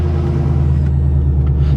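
Steady, loud low rumble of a 2006 Ford Mustang GT 5-speed idling through its Flowmaster exhaust, a continuous throaty drone with no talking.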